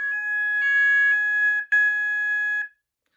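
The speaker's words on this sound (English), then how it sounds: "I'm gonna re-enable the sounders." Kentec Syncro fire alarm sounders re-trigger with a loud, steady electronic tone that breaks once briefly, resumes, then stops, with no talking.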